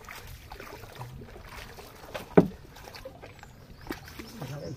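A rowing boat pushes slowly through water thick with trees, with soft sloshes and trickles, a single sharp knock near the middle and fainter bumps later, against a quiet background.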